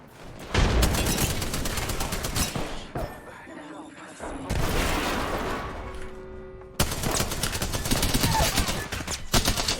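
Gunfire in a shooter video game: loud, dense bursts of shots come in three long stretches with brief lulls between them, and game sound effects fill the gaps.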